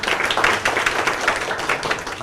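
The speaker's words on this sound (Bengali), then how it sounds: "সবাই একটা হাততালি দিতে পারি অনেক জোরে" A short burst of steady clapping from a group, dense and continuous, at moderate loudness with no voices.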